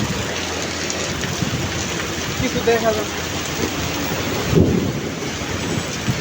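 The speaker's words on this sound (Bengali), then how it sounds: "বৃষ্টি প্রচুর বৃষ্টি হচ্ছে" Heavy rain pours in a constant dense roar while low thunder rumbles through it, and a voice briefly speaks over the downpour.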